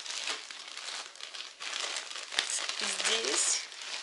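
A plastic Pampers gift bag from a maternity hospital crinkles and rustles steadily as it is handled close by, with a few sharper crackles, while a voice talks over it.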